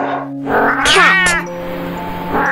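A domestic cat meows clearly and close by, one drawn-out call with a rising and falling pitch, heard alone against a quiet background.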